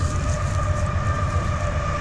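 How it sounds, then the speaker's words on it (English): A train rumbles past, a loud, steady low roar carrying sustained metallic tones, with no one speaking. "It's a train."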